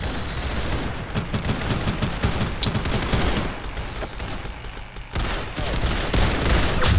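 Rapid bursts of gunfire from Roblox Arsenal ring out in quick succession, loud and close, with short pauses between volleys and scattered single shots.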